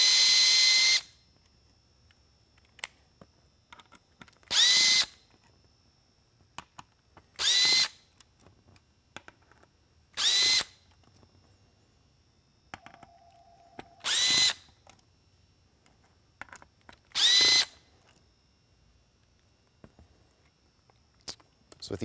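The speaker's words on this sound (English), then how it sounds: "Screwed together on the back, so we'll go ahead, get the little Phillips out of the way." Power screwdriver backing Phillips screws out of the back housing of a Whelen M7 Linear Super-LED lighthead, six short whirring bursts spaced a few seconds apart, close and alone against a quiet room with small handling clicks between.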